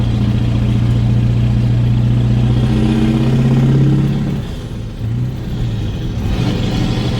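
A CAT-powered truck engine revs out when a two-speed axle split shift misses gear, a loud sustained drone holding steady before the pitch and volume sag, then pick up again.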